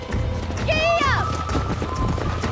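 A horse gallops in the video game Red Dead Redemption, with rhythmic hoofbeats running under a voice and a brief high whinny early on, all over a continuous outdoor background.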